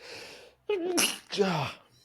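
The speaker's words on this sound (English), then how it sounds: "Sneeze." A nearby sneeze breaks up quiet conversation, with voices talking before and after it.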